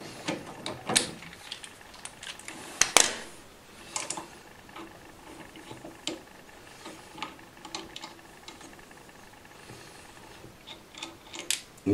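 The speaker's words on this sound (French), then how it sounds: "vous devez utiliser donc soit une clé à pipe de 15, soit comme nous, un cliquet" A ratchet wrench clicks in short, uneven bursts while loosening the ignition nut on a Typhoon-type scooter, producing quiet, close mechanical ticks and metallic clacks.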